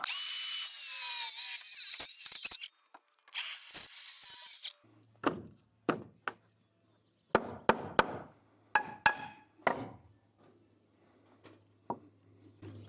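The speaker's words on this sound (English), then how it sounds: "So I'm going to sacrifice a saw blade and make this cut." A saw works through wooden sub fascia and embedded nails: an early burst of harsh cutting, then scattered sharp knocks and short bursts, faint and close, with quiet gaps between.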